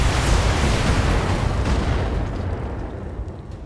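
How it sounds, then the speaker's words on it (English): Mech weapons fire in the game BattleTech as a loud, dense barrage of booming blasts and explosions that rumble together, then thin out and fade toward the end with no talk over them. "Discharging weapons."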